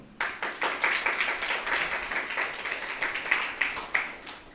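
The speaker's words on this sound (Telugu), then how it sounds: "దేవునికి వేలాది వందనాలు తెలియజేస్తూ చప్పట్లు కొడదాం." A congregation at a church consecration festival for Our Lady of Lourdes claps in a brisk, steady rhythm of many hands, moderately loud and close, continuing for several seconds with a faint voice underneath.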